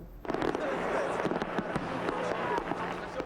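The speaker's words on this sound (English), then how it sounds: "Fireworks in the night sky signaled the all clear" Fireworks bursting in the night sky over Aspen, Colorado, a rapid series of sharp cracks and pops over a steady crowd murmur, loud and continuing throughout.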